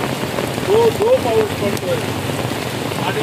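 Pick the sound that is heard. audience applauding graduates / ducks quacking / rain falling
rain falling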